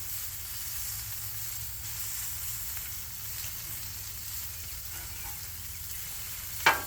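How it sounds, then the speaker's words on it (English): Chunks of cheese steak meat sear on a Blackstone flat-top griddle over low heat, a soft, even sizzle and hiss held steady at a modest level, ending with a short sharp scrape or tap. "Trying to get her a little bit seared up,"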